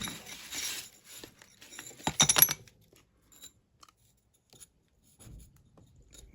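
A paper envelope is torn open by hand, a short burst of close crinkling and ripping followed by faint rustles and small handling clicks in a quiet room.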